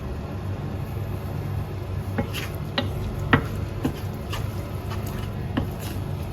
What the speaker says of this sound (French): on mélange tout ça à feu doux